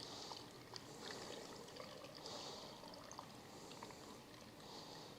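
Salt-water brine poured into a jar of packed tomatoes for fermenting, a faint steady trickle and splash running continuously without talk.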